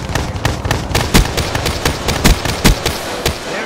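Rapid gunfire from an MX Garand in Black Ops 3, a close, loud string of sharp shots in an uneven rhythm with a few heavier bangs.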